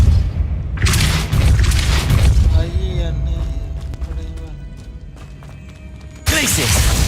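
A Depulso spell cast in the video game Hogwarts Legacy, a forceful boom-like blast with a rushing burst, followed by softer game effects and another loud hit at the end.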